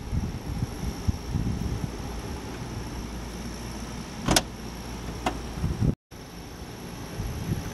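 A 2014 Ford Escape Titanium power liftgate closes with a steady motorized whir and two sharp latch clicks, ending in a brief cutoff before the hum resumes.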